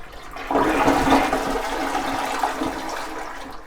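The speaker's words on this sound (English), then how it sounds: "I'm just going to flush to empty the tank here." A toilet flushes to drain its tank after the water supply has been shut off: a loud, close rush of swirling water that starts abruptly and keeps draining steadily for several seconds.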